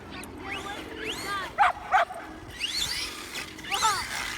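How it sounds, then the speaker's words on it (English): Two dogs bark and yip outdoors near a 1/8 scale Redcat Kaiju monster truck, with a couple of sharp close barks among whiny, rising yelps and whimpers over background noise. "Oh, you got two dogs now."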